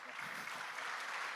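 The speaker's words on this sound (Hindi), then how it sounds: "थोड़ी तालियां होनी चाहिए।" An audience at a book festival event in Goa claps in sustained applause, fairly faint and distant, a steady patter of many hands throughout.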